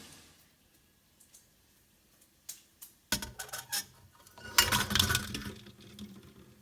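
Metal spoon clinks and taps against eggs in a bowl, a few sparse knocks at first, then a busier cluster of clattering clinks, close by.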